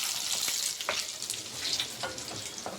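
Spices such as mustard seeds, cumin, urad dal and chana dal frying in hot oil for a sambar tempering, giving a steady close sizzle with small pops and a few light stirring clinks, no talking.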